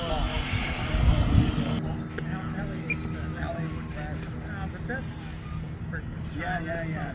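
A large-scale HSD Jets ME-262 model jet aircraft passes with a loud jet roar that swells around the first second and then settles into a steadier whine, with voices talking over it.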